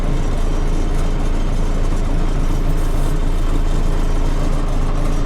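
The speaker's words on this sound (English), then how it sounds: "But I can still fold them up while idling." A lifted John Deere 6000 sprayer's engine idles with a loud, steady low rumble, constant throughout with no voices.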